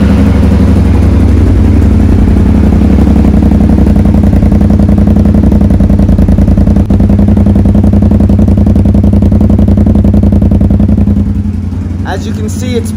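A Kawasaki Brute Force 750 ATV with a loud aftermarket exhaust fires up and idles close by, a steady throbbing loud engine note that holds evenly before easing near the end.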